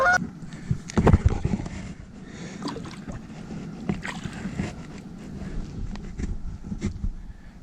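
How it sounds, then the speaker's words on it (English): Several geese honk loudly and repeatedly nearby, their calls overlapping against a background of wind and water. "So even the geese are excited."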